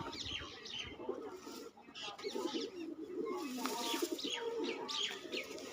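Pet pigeons coo softly in repeated throaty phrases mixed with faint chirps, heard close but quiet against low background noise.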